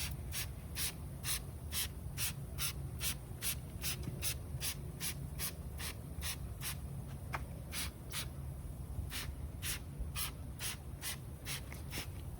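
A trigger spray bottle squirts cleaner onto a car wheel in a long series of quick, evenly spaced hissing spritzes, about two per second, close and steady with no voices.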